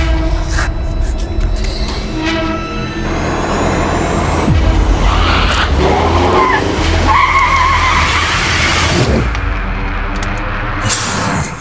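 A car skids while cutting in front of another car, giving loud tire squeals and engine noise that build and swell over several seconds, close and harsh, with traffic sounds around it and no clear talking.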